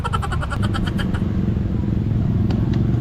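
A motorcycle engine runs loud and close with a steady, pulsing drone, with a few brief clicks on top and no clear talk over it.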